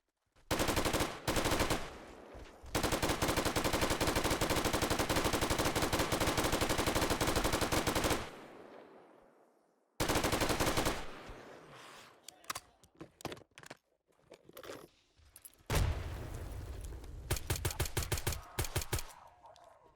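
Light machine gun in a modded 7 Days to Die session: long, loud sustained bursts of rapid automatic fire, then a short pause and choppier bursts with brief gaps and mechanical clicks toward the end.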